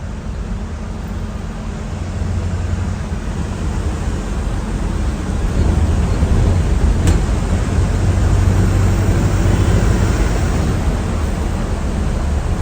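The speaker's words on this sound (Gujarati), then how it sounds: "પ્લેન જાય છે" An airplane passes near an international airport as a loud, steady roar that swells slightly toward the middle and stays broad and continuous, with no voices heard.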